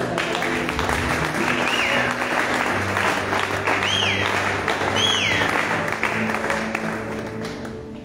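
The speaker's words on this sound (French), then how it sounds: "Sous vos acclamations" An audience at a youth entrepreneurship conference in Congo applauds and cheers for a woman being honoured, a dense, sustained wash of clapping with a few whoops rising above it before it tapers slightly.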